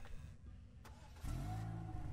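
A stuck car in a video game sits at a quiet idle, then its engine abruptly revs up into a louder, sustained strained drone with rising harmonic whine.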